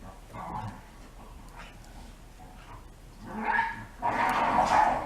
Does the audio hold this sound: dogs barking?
yes